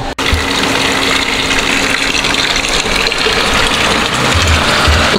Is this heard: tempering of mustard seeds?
no